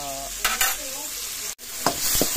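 Mussels and tomatoes sauté in a pan, a steady sizzle broken by a few quick stirring scrapes and clatters, heard close with no talking.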